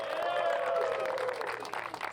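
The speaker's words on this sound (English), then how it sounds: "a round of applause for Ocean Alexander" A crowd at the Fort Lauderdale International Boat Show applauds the Best in Show winner, Ocean Alexander, with its 35R yacht. Clapping and cheering sit under amplified music and a ringing tone, fading slightly toward the end.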